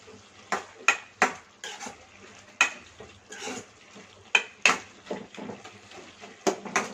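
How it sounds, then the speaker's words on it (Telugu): A spoon stirring salt and chili powder into broad bean curry in a pan, with repeated sharp scraping clacks against the metal at an irregular rhythm over a soft sizzle, close and without speech. "ఇప్పుడు ఒకసారి కలిపేసుకుందాము"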